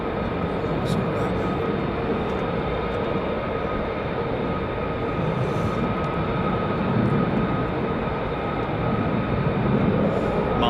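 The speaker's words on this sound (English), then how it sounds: "The F-35 or the F-15 is loudest" Fighter jets of the 48th Fighter Wing, F-35s or F-15s, roar overhead as a loud, sustained broadband engine rumble with a steady whine. The rumble holds throughout the clip, with people talking beneath it.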